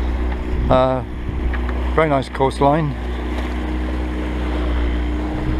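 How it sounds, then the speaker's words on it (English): A sailboat motoring up the Dutch coast from Flushing, a steady low engine drone with wind rumbling across the microphone, while someone talks over it. "Here we are motoring at the moment up the Dutch coast from Flushing"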